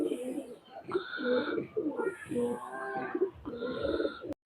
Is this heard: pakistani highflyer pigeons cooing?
yes